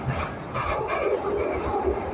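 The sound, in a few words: Glasgow Subway train arriving at Govan station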